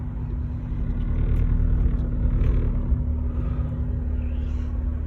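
A 2002 Honda S2000 convertible idles with a steady, low droning hum and a constant engine tone, close and continuous without talk.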